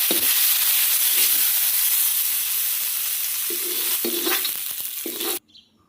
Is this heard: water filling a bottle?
no